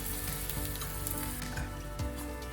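Mung dal bread parathas roasting on a hot pan, a close, steady sizzle with a brief scrape or turn near the end, no talking.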